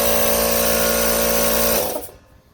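A Central Pneumatic electric air compressor runs with a loud, steady motor drone up close, then winds down and falls quiet near the end.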